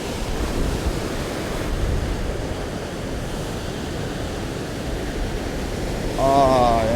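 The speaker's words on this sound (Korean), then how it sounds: "파도가 점점 세지죠." Ocean waves surging against a rocky shore near Sydney during rock fishing, a steady broadband roar with wind noise on the microphone that swells louder toward the end as the sea grows rougher.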